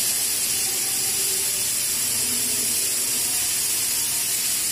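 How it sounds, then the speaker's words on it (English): Steam vents from the inner chamber of an autoclave as a loud, continuous broadband hiss that holds steady throughout, close by and with no voices. "So this will release the steam from the inner chamber."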